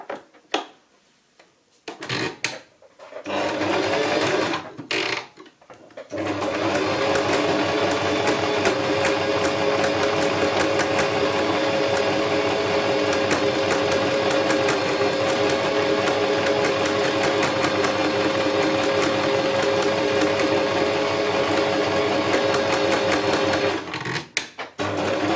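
A sewing machine runs steadily and up close, stitching along the top edge of a homemade fabric face mask. A few short starts come first, then about twenty seconds of continuous rapid stitching, and it stops near the end.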